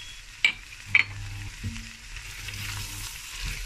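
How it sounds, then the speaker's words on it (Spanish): Prawns sautéing with paprika in a pan, a soft continuous sizzle beneath a few sharp utensil clicks and stirring scrapes, close and fairly quiet, no talk. "pongo ya los langostinos. Los rehogo."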